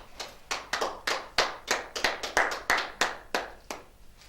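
A congregation at a prayer service claps in acclaim to the Lord, a lively run of about a dozen loud, close bursts of applause in a brisk, slightly uneven rhythm.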